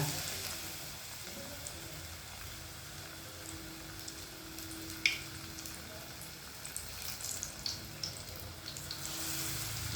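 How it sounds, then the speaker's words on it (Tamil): Bajji fritters frying in hot oil, a steady soft sizzle and crackle running throughout with occasional small pops, moderately close and fairly quiet. "பச்சி சவுண்டு கேட்குதுங்க"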